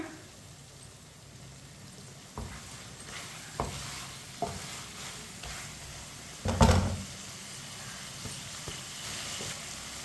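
Chicken frying in a pan over medium heat for a tinda chicken curry: a low steady sizzle broken by scattered stirring scrapes and one louder clatter, with no talking.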